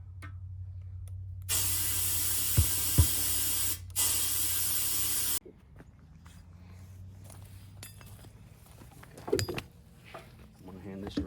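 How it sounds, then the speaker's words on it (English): A loud, steady hiss of compressed air from an air compressor inflating a low tractor tire rushes for a few seconds, stops abruptly, then gives way to quieter clanks and mechanical knocks. "you'll hear an air compressor kick on"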